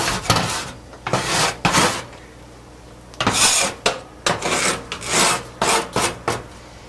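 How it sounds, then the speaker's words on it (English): A non-metal scraper rasps repeatedly across the bottom of an oven, removing dried-on bits in rhythmic, close, gritty strokes separated by brief pauses. "With your scraper, you can scrape out any of the dried on bits that might be in the bottom of your oven"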